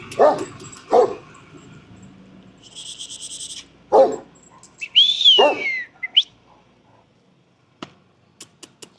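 A dog barks several times in sharp, separated bursts, with whistle-like tones and a few faint clicks in between; fairly close and loud.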